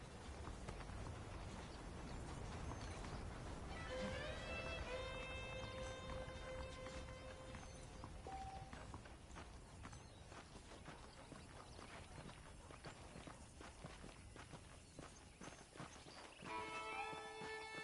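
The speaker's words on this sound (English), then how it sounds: "The horses are saddled up over here." Horse hooves clip-clopping at a steady walking rhythm in Red Dead Redemption on PS5, continuous and fairly close, with game music tones playing underneath.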